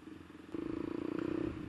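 A motorcycle fitted with a replacement racing exhaust idles and then revs up with a deep, round, throbbing bass note, close and steady for over a second.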